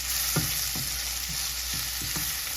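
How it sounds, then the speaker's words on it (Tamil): Curry leaves sizzle in hot oil with onion and chili in a pan while being stirred for a carrot and tuna dish, a steady close frying hiss broken by regular scraping stirs. "கருவேப்பிலை கொஞ்சம் போடுவோம்."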